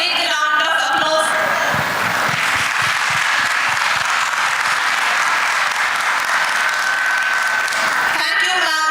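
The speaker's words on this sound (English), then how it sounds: "Please join me in giving a big round of applause." At an international engineering conference, a crowd breaks into sustained applause after a presentation, many hands clapping loudly and steadily for several seconds while a voice can be heard over the ovation near the start and end.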